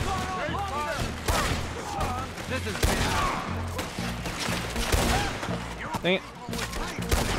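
Rapid bursts of gunfire in the Red Dead Redemption 2 Favored Sons mission, loud and continuous, with repeated shots and crashes layered under game dialogue and a player's brief exclamation.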